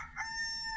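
A rooster crows once in a drawn-out cock-a-doodle-doo that holds a steady tone to the end, moderately distant and faint, with no talking over it.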